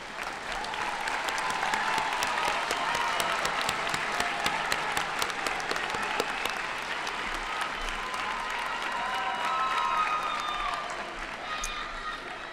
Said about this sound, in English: please stand now so we can applaud your support